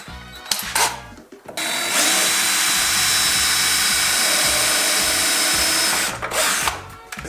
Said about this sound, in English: Pilot holes first.